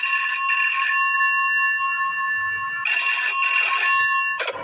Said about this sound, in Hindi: इससे पहले कि प्रिया कुछ सोच पाती उसके कमरे का लैंडफोन बजा।